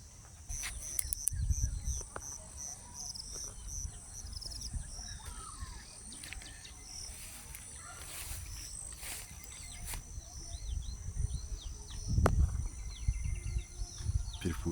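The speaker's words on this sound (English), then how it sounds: "Beautiful sounds of the birds." Birds in open grassland chirp and call in scattered bursts over a faint bed of insect buzzing, the calls light and distant and the ambience quiet, with occasional soft rustles closer by.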